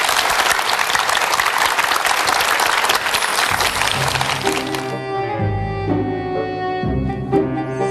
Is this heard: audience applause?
yes